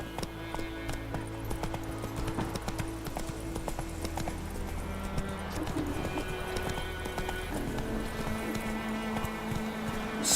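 A horse gallops in a video game, steady rhythmic hoofbeats with a whinny, layered over game music and ambience.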